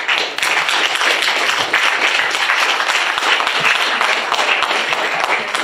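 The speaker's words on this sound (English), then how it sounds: "And a huge round of applause again." A room of people at a town election candidates forum claps in sustained, dense applause that stays loud and even throughout, with no one speaking over it.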